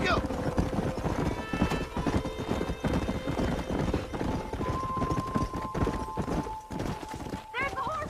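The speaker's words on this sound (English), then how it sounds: "There's the horses!" Horses gallop in the Western video game Red Dead Redemption 2, with dense, rapid hoofbeats running continuously under a horse's whinny and background music, while characters talk over it.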